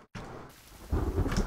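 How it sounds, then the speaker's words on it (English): Thunder rumbles in the rainy game world of The Forest, starting after a brief silence and swelling into a loud, continuous low roll over steady rainfall. "Holy hell, of course it started fucking raining."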